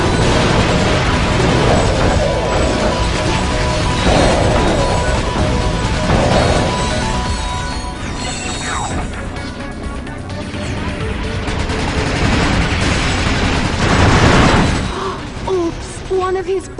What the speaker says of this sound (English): Explosions are pretty.